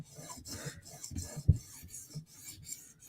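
A K390 tool-steel Spyderco knife blade is stroked lightly on a sharpening stone to remove the burr, giving a series of short, quiet rasping scrapes close by in an uneven rhythm.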